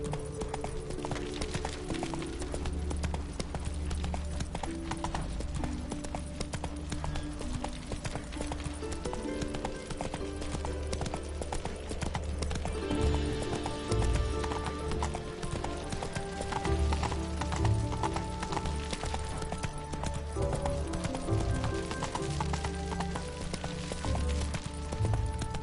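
Horse hooves clip-clop steadily at a run in The Witcher 3, a continuous rhythmic beat sitting under game music and ambience with no talk over it.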